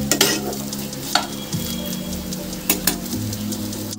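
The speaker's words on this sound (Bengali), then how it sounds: "তো দেখো আমার সয়াবিনটা হালকা করে ফ্রাই করা হয়ে গেছে, এবার আমি তুলে নেব।" Soybean chunks frying in oil in a wok for soyabean kosha, with a constant loud sizzle and sharp scraping taps of a spatula stirring them.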